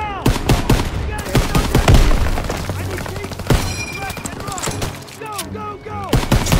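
Sustained machine gun fire from a barn in the World War II shooter Call of Duty WWII, rapid bursts of gunshots over a rumbling battle mix with scattered shouting voices, loud and continuous throughout.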